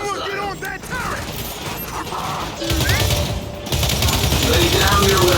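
A turret machine gun fires in the Gears 5 video game, a dense sustained rattle of rapid shots that swells louder partway through amid other battle noise and brief in-game voices.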